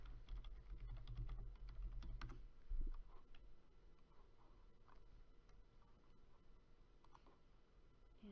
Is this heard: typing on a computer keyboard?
yes